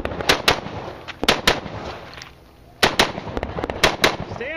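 Rifle shots at an outdoor practical shooting match crack out in quick pairs and clusters, loud and close, with a brief lull before another rapid string of shots.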